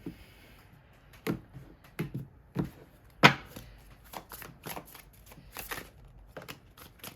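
Tarot cards are shuffled by hand in a run of crisp, uneven riffles and taps, close up in a quiet room.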